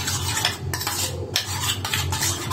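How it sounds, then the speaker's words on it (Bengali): Beaten egg mixture, with chopped cucumber and onion added, whisked briskly in a bowl with a utensil, giving steady scraping and clinking strokes in short bursts at close range, with no talking. "ভালো করে ফেটিয়ে নিচ্ছি"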